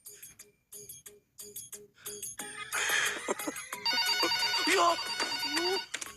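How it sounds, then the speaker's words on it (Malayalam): A phone ringtone plays as a melodic electronic tune, starting in short repeated bursts and then swelling into a louder, continuous ringing. "അയ്യോ ഫോൺ സൗണ്ട്"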